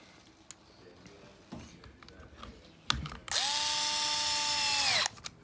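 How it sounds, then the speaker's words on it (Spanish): A power drill drives the final screw into a children's ride-on buggy motor after a gear swap: a loud, steady whir of about two seconds near the end, preceded by a few scattered clicks and handling knocks. "ponemos el último tornillo"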